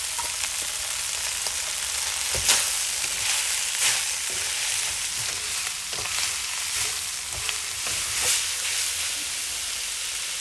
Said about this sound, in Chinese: 炒出香味，放一勺豆瓣酱， 翻炒均匀，放木耳、